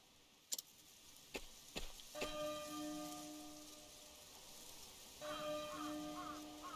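A church bell in the video game Octopath Traveler 2 rings softly with sustained, shimmering tones, quiet and distant. A few sharp ticks come first, and a second set of chimes swells near the end.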